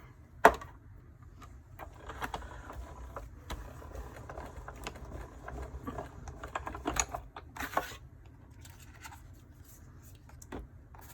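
A Stampin' Up! die-cutting machine pressing an envelope die through paper gives a run of quiet, irregular clicks, taps and scraping rubs, close by and with nobody talking.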